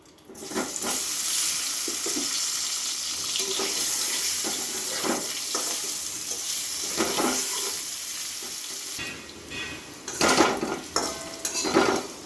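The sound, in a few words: frying potatoes in a pan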